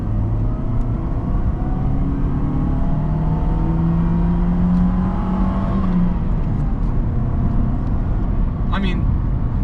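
A supercharged 1998 Mercedes-Benz CLK230 Kompressor with a five-speed manual pulls hard at full throttle, its engine note climbing steadily for several seconds, loud and close, with a person talking over it.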